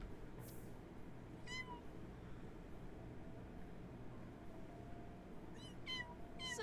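A cat in the Sims 4 video game meows several times, once early and then twice in quick succession near the end, faint over steady low background noise, with no voices.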